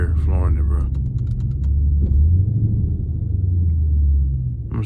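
A Dodge 392 Scat Pack V8 rumbles in cold weather, a deep steady throaty idle with slight swells in revs, loud and close throughout, with a brief voice at the start.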